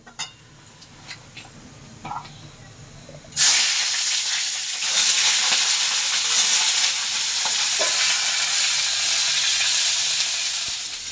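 Eggplant pieces in hot oil hiss and sizzle loudly, starting abruptly after a few quiet seconds and holding a steady, close frying hiss to the end.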